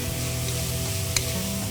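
Corn sautéing in butter in a pan, giving a constant moderate sizzle with a low background hum and a single quick clink partway through.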